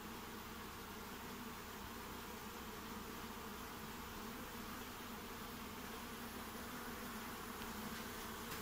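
Honeybees swarm around small nucleus hives in an apiary yard, making a steady, dense buzz that fills the air evenly without pause.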